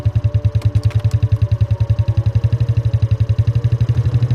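A motorbike engine idling close by: a loud, steady, rapid thumping pulse that stays even throughout, with no talk over it.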